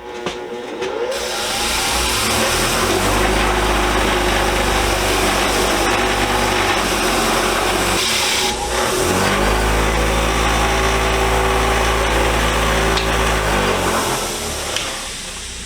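A large grinding wheel spins up and works rust off an old ratchet wrench, giving a loud, steady motor whine with harsh abrasive hiss, a brief dip in the middle, then sustained grinding.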